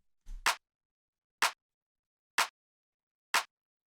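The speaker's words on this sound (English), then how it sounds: "So this is just a clap" Four crisp clap samples from a minimal dub house beat, each a sharp dry snap spaced about a second apart and alone in silence.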